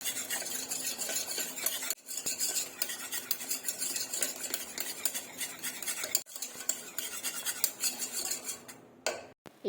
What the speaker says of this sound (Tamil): இப்போ ஓப்பன் பண்ணிவிட்டு அதில் கொஞ்சமாக நெய் அப்புறமா உப்பு மட்டும் சேர்த்து ஒரு தடவை நல்லா மிக்ஸ் பண்ணி எடுத்துக்கிற போகிறேன்.